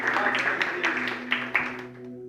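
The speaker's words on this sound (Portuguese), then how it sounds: "Você pode dar uma salva de palmas para os nossos ministros da música." A church congregation claps for its music ministers. The applause is moderate and scattered, with a few sharper claps over a steady sustained organ or keyboard tone, and it fades out near the end.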